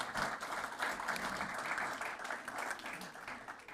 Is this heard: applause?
yes